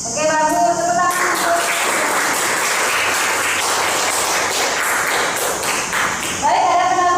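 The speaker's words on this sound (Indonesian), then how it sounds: "Tepuk tangan." A class in a teacher training lesson breaks into applause, a burst of clapping from many hands that runs for several seconds between stretches of talking at the start and end.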